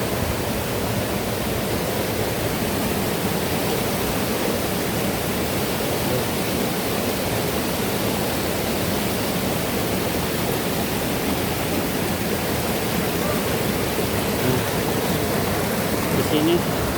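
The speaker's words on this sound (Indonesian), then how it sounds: "Di sini sungai air dingin dan ini mata airnya air panas." Steady, loud rushing of a cold-water river and waterfall where it meets a hot spring, constant throughout with a person talking over it.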